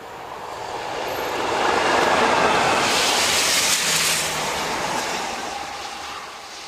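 A pair of Class 37 diesel locomotives hauls a train toward Seamer station, the broad engine roar swelling as it nears, peaking loud in the middle, then easing slightly, with faint wheel clatter and no talk.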